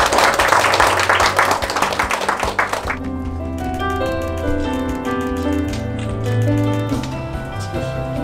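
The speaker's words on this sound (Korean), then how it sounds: "자, 큰 박수 부탁드리겠습니다." Audience applause at a corporate ceremony of a pro sports club, a loud burst of dense clapping for about three seconds that then gives way to sustained music.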